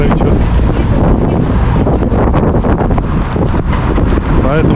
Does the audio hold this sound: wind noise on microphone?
yes